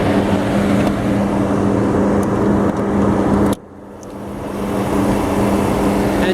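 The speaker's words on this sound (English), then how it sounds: "Engine is just purring away like brand new." A 1997 Mercedes-Benz S500 with 92k original miles idles smoothly, with a steady, even hum heard close up. The sound drops sharply midway, as if muffled, then gradually rises back to full level.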